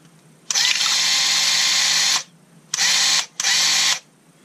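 A Graco Ultra cordless handheld airless sprayer runs in prime mode, giving a loud high-pitched motor whine in three bursts: a long run of nearly two seconds, then two short bursts separated by brief silences.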